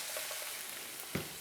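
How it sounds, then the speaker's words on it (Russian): Onion frying over medium heat in vegetable oil in a pan gives a steady, soft sizzle throughout, with a brief stir or clink near the end and no talking. "лук обжариваем на среднем огне"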